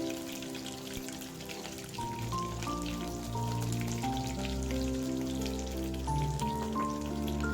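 Dense crackling and popping of mustard seeds spattering in hot oil, steady and close, with a tonal musical backdrop running throughout.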